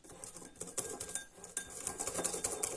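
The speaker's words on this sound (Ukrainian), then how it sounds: "Це потрібно перемішати." A beet dish being stirred with a utensil in a bowl, giving quick clinking and scraping taps that come in irregular bursts at moderate loudness, with no voices.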